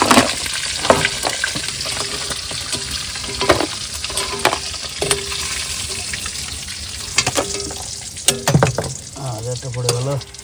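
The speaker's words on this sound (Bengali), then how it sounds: "কাঁকড়া ভাজা হয়ে গেছে, এবার তুলে নেবো।" Tiger crabs fry in a pan, giving a loud, continuous sizzle. Scraping stirring strokes and knocks from the utensil against the pan break through at intervals.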